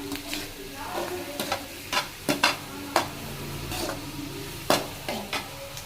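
Chennai-style chicken gravy gets stirred in a sizzling pan, with a spoon scraping the bottom in repeated close strokes over a continuous frying hiss.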